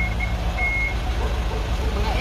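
A delivery truck's reversing beeper chirps in a few short, evenly spaced beeps over a low rumbling idle, fairly close with background murmur around it.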